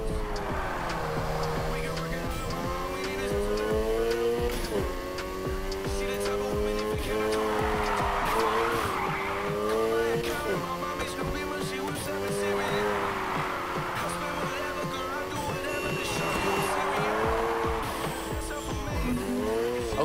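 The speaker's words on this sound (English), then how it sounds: "You're drifting." Engine roar in Need for Speed Heat as a car drifts, with sustained tire squeal and revving that rises and falls through the slides, loud and continuous, while a voice speaks at times.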